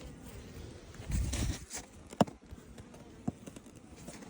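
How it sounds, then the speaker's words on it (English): A honey bee colony buzzes steadily as a soft, even hum close by, with a few brief knocks and taps over it. "Oh, I hear bees. Oh, another massive colony."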